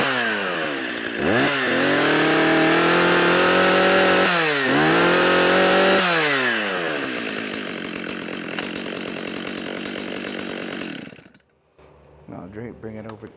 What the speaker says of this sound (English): I'm going to start it and see if it releases some of the tension on the chain